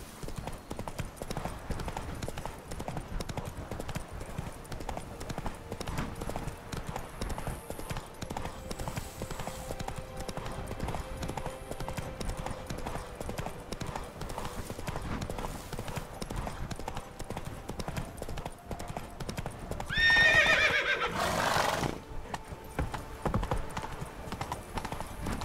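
Horse galloping in The Witcher 3 video game, a steady fast clip-clop of hooves running throughout, with a brief louder burst near the end.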